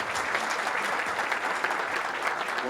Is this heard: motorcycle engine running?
no